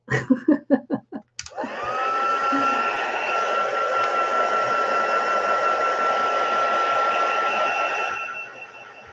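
A hair dryer blows steadily on a soaking-wet craft piece, switching on after a few short knocks and holding an even, loud whine for several seconds before easing off near the end.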